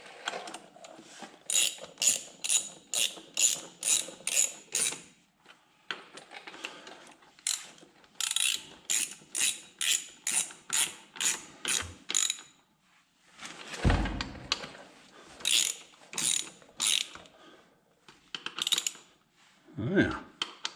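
A ratchet wrench clicks in rapid rhythmic bursts, several runs separated by short pauses, fairly close, with a few heavier metallic thunks near the end, while working on a John Deere A tractor front wheel hub.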